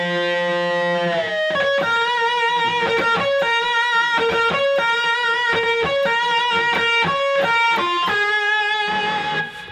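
An electric guitar plays a blues phrase with double-string bends, a lightly driven tone sliding up and releasing over sustained notes, loud and close without speech.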